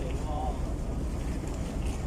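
A small ferry boat at rest on the water at a landing in late afternoon, its steady low engine drone and water noise mixed with wind buffeting the microphone, fairly quiet and continuous.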